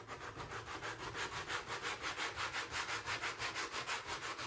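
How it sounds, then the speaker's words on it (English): A cork duck decoy is sanded by hand with coarse 80 or 90 grit sandpaper, a close, quiet, rhythmic rasping in steady back-and-forth strokes, about four per second, with no voices. "90 grit or 80 grit sandpaper and just work the entire decoy. Smooth things down."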